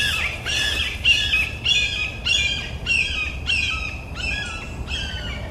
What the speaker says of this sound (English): Red-shouldered hawks are everywhere today.